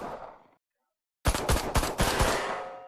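Irish Army Steyr AUG rifle test firing, a short fading sound, a brief silence, then a loud rapid run of close shots with a reverberant tail; no talking.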